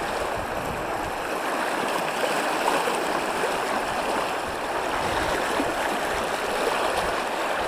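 River water rushing and swirling around a person's legs while wading across a knee-deep river, a continuous close, loud, hissing gurgle with no talk.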